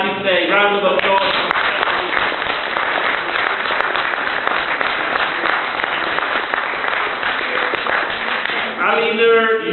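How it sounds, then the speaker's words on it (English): Audience applause fills an award ceremony for tutors at the Houses of Parliament, a loud, dense and steady clapping that swells between announcements, with a speaking voice heard briefly at the start and end. "Round of applause."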